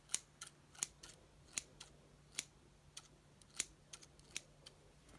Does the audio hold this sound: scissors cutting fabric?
yes